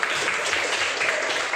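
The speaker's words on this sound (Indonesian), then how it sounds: "Tepuk tangan." Brief burst of classroom applause from students at a junior high school, a short dense patter of clapping with no talk over it.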